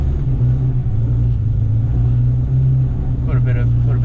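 A Chrysler VJ Charger with a Hemi engine idles in a shed, a deep, steady, close rumble with a pronounced low hum throughout, and someone speaks briefly near the end.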